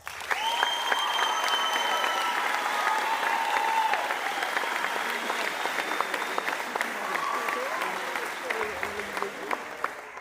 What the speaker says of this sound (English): Let's hear an applause for these.